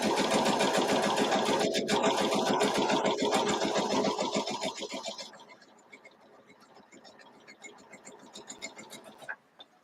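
A sewing machine stitches a quarter-inch seam while piecing a London Roads quilt variation, running in a loud rapid whir for about five seconds before slowing to softer, uneven stitching bursts, with someone talking throughout.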